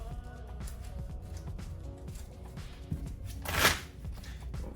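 A deck of Pokemon trading cards shuffled on a tabletop during a match: soft riffling and card flicks build to one brief, louder close riffle near the end.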